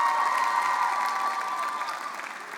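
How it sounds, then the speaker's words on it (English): Audience applause for debaters on stage at a scholars' debate showcase, a full, even burst of clapping from a large crowd with a faint steady tone underneath, gradually fading toward the end. "have one more big round of applause to all of our debaters up here on the stage"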